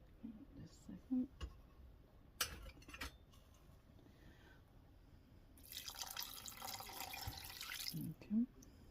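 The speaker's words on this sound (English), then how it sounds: "Now, we're going to go ahead and add our water." Water pours into a pot of melted cheese sauce for cheeseburger macaroni, a rushing splash lasting a couple of seconds amid quiet kitchen clinks and soft background talk.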